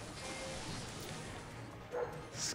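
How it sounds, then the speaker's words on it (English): Neighbor's dogs barking in the distance, faint yips and woofs popping up near the end over a low background hum, no talking. "My neighbor's dogs, man."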